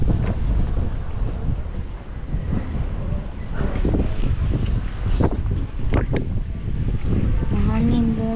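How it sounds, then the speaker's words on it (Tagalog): Strong wind buffets the microphone outdoors behind a church, a loud, continuous low rumble with gusty swells throughout, and faint voices and brief whistling tones are partly audible beneath it. "Mahangin, guys."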